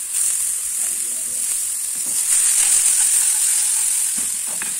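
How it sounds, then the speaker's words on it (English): A sauce of mustard, mayonnaise and tomato is stirred in a bowl, a soft continuous scraping and hissing swish at close range, with no talk. "So we are mixing this sauce."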